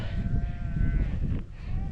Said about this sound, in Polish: Jesteśmy w połowie stada. Owce się trochę spłoszyły